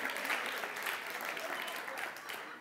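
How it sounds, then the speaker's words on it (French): An audience claps steadily through the whole stretch during a French-language talk show, with a brief crowd cheer mixed into the dense, close applause. "On peut applaudir attends."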